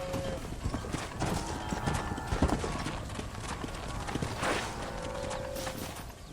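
In the Red Dead Redemption video game, horse hooves clop in a continuous close rhythm, with a faint neigh and scattered game sounds mixed in.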